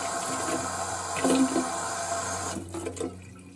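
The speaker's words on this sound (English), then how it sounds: "just run it under the tap" Tap water runs steadily into a sink as a piece of jewellery is rinsed under it, a continuous close splashing rush that swells briefly, then thins and trails off with a few drips near the end.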